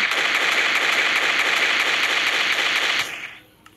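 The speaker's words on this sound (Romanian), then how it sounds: "Mai testăm o pușcă," Gun in a Minecraft war game firing a rapid, loud, unbroken machine-gun burst for about three seconds, then cutting off into a short fading tail and near quiet.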